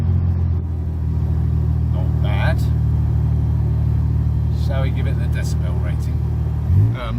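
A Toyota FJ Cruiser fitted with a new performance exhaust idles with a deep, steady, close rumble throughout, swelling briefly near the end, while short bursts of muffled voices break in over the engine.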